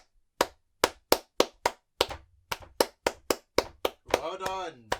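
Sharp, separate hand claps ring out close and loud in an uneven sequence of about a dozen strikes, ending in a brief burst of cheering or shouting.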